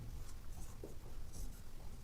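A maths teacher writes on a board in a classroom lesson, a faint, continuous scratchy scraping of strokes over a low background hum, close but quiet.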